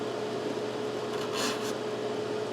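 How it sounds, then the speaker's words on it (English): A file saws a bass guitar's Tusq XL nut slot to widen it, making a steady, close, soft rasping scrape with one brighter, harsher stroke midway. "I'm just going to keep on sawing until the guitar grease disappears out of the bottom of the slot."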